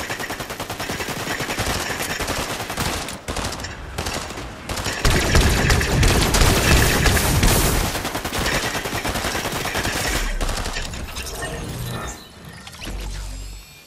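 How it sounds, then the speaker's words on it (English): Gatling gun fire in a Fortnite match: loud, sustained rapid automatic bursts with brief pauses, dense mechanical rattling, continuing for most of the stretch without speech. "Gatling gun is kind of hard to shoot with because it takes a while to charge up"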